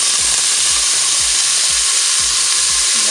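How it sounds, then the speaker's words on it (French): Onions frying in hot oil inside a Cookeo multicooker give off a steady, loud sizzle that fills the whole moment, with faint low knocks underneath and no talking. "l'huile est chaude, on va pouvoir mettre pour commencer les oignons."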